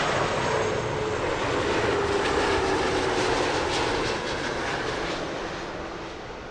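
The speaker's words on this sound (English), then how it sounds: "Another tasty arrival from an A330." An Airbus A330 arrives at Heathrow Airport with a broad, steady engine roar that holds and then gradually fades as the jet passes.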